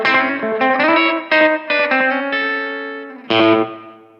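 An electric guitar through a vintage-style analog delay pedal set for a washy ambient sound plays a few sustained notes and chords, each trailing into smeared repeats that blur together.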